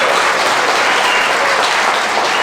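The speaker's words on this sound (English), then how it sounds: "we ought to give you a round of applause" Loud, dense applause from guests at a retirement party, a continuous even roar of many hands clapping close by with no speech over it.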